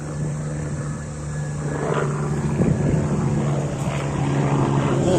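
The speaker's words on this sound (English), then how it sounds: "Looks like a red medical helicopter." A red medical helicopter passes overhead, its rotor drone a low steady hum that swells slightly as it nears, heard outdoors with faint background sounds and no talk.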